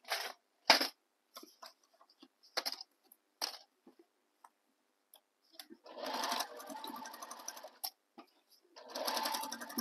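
A home sewing machine sews a seam on a tote bag, first in short separate bursts of stitching, then in two longer steady runs, close and fairly quiet.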